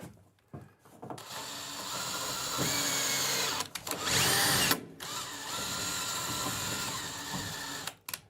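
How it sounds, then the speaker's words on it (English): A handheld power drill runs in reverse, wallowing out a hole in a wooden campervan rear door panel, in two sustained whining bursts with brief pauses and start-stop revs, close and loud. "So what I'm doing is I put the drill in reverse, and so this is reverse."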